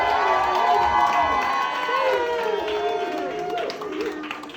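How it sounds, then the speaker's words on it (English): Crowd cheering and shouting in honour of a couple at a celebration, loud and continuous with voices whooping over scattered clapping throughout. "can I get a big round of applause for Adam and Rebecca right now?"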